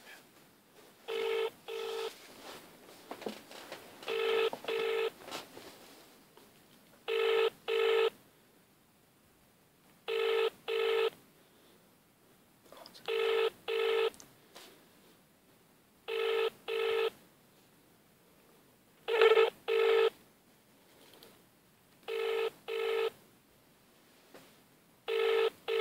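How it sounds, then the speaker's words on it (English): Telephone ringback while calling Yodel FM: paired ring tones repeat at regular intervals, moderately loud, with faint background room noise between the rings. "Come on, answer the phone."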